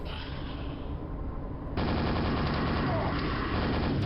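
Automatic weapon fire in the shooter game Dimension of the Machine, a fast, steady rattle of shots that steps up sharply in loudness partway through and then keeps hammering without pause.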